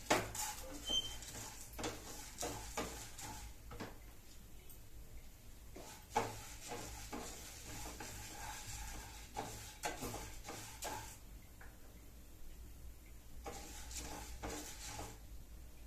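Urad dal and chana dal dry roasting in a pan are stirred with a series of scrapes, rattles and clicks of lentils against metal, quiet and close, with irregular bursts and pauses.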